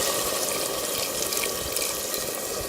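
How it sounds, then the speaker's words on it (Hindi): Water is poured into a pan of frying mixed vegetables and chicken, producing a steady, loud hissing splash that lasts throughout, close and without speech. "तो मैं इसमें पानी शामिल कर लूँगी"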